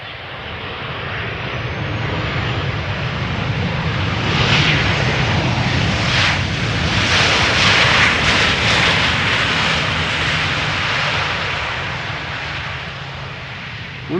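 A KLM Boeing 737-800 airliner arriving from Madrid lands at Schiphol's Polderbaan runway, its engine roar swelling steadily and loudly, peaking mid-pass and then fading gradually, with no talking over it.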